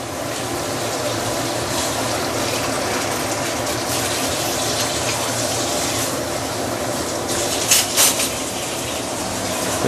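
Hot water pouring steadily into a pot of tamarind fish broth, a continuous close gushing splash that holds level throughout, ending with a few brief louder splashes.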